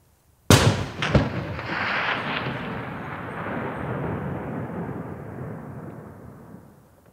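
A single sharp rifle shot fired at a ram during a hunt in the Yukon wilderness cracks loudly, then rolls away in a long echoing decay that fades over several seconds, with no voices.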